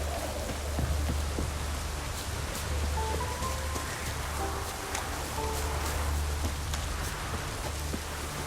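Steady rain patters on a surface in The Witcher 3: Wild Hunt, a dense continuous hiss with scattered drops, over a low rumbling background and faint tonal game sounds.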